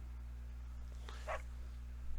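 Short puppy yips and a brief whimpery bark from dogs in the Fire Emblem: Three Houses video game, heard faintly over a steady low game hum.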